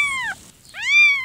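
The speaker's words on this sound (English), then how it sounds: "The sound of newborn kittens snuggled in the hay" Two high, thin newborn kitten meows sound close by in hay, one short and one slightly longer, separated by a brief pause.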